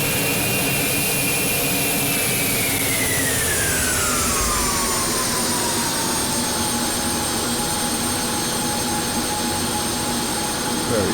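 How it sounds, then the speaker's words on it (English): Carenado 390 Premier 1A business jet in X-Plane 11 landing with thrust reversers deployed: a loud, steady jet roar with a whining tone that sweeps down in pitch over several seconds as the engines spool and the aircraft slows. "those reverses absolutely sound great."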